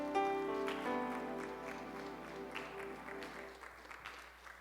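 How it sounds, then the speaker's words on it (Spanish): A church congregation gives scattered, faint clapping as a sustained keyboard chord rings out and fades, the claps growing sparser and quieter toward the end. "Den un aplauso al Señor"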